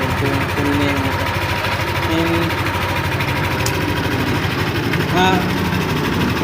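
A motor running on an installed unit, giving a continuous steady mechanical hum with a faint rattling vibration, fairly loud and unbroken from start to finish.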